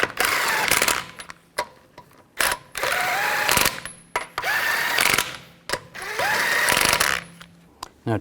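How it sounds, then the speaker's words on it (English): Lug nuts being run onto a wheel of a 2004-2008 Nissan Maxima, heard as several loud, rapid bursts of an impact or power tool, each lasting about a second, separated by short pauses. "Put the lug nuts on."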